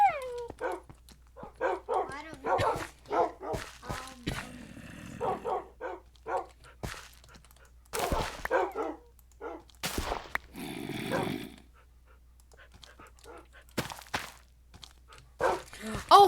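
Dogs in the Minecraft video game bark in quick, sharp bursts, scattered across the span with yips between, while a person talks briefly over game sounds like footsteps and thuds.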